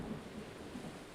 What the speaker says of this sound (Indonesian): Hujan turun sangat lebat, angin bertiup cepat, dan langit dipenuhi kilat.